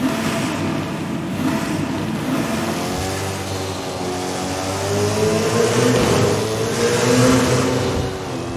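Engine audio from a car in the racing video game Forza Horizon 5, a loud continuous growl with rising and falling rev sweeps, close and steady with no talk over it.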